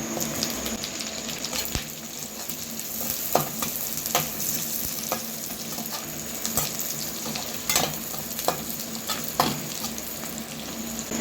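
Chopped onion fries in a pan for a garlic butter pepper mutton fry, giving a steady, close sizzle and crackle of hot oil. Occasional sharp clicks of stirring cut through, and no one speaks.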